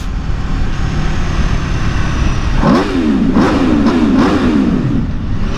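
A 2023 Aprilia RSV4 motorcycle revs inside a tunnel over steady road rumble, with several sharp throttle blips whose pitch rises and falls as they echo off the walls.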